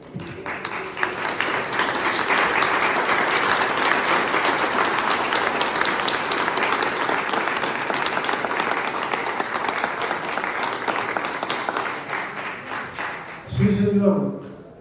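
An audience applauding in the Colombian Congress, a long sustained roar of clapping from a large crowd that swells and holds before breaking off near the end into a brief louder rustle.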